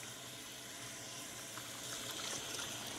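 Tap water runs steadily as hands are rinsed of soap at a sink, a continuous close splashing hiss with no voices.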